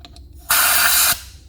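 A sharp, steady hiss of compressed air as a part of an old abandoned flying boat is inflated, rising loudly for about half a second and holding before cutting off abruptly into quiet.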